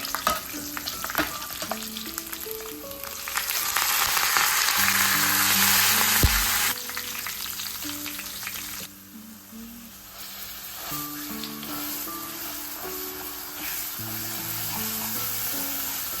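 Steady loud sizzling of tempering spices in hot oil in a Telugu kitchen, a continuous crackling hiss with occasional stirring clinks, no voices.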